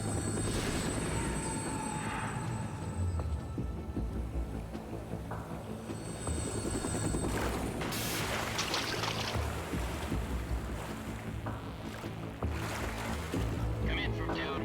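A helicopter in the video game Metal Gear Solid 2 approaches with a loud, continuous rotor thrum and engine roar. A radio voice speaks over it while the noise stays steady throughout.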